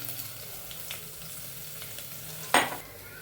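Garlic and curry leaves fry quietly in a pan for spiced puffed rice, giving a soft, steady sizzle. One sharp clink of a utensil sounds near the end.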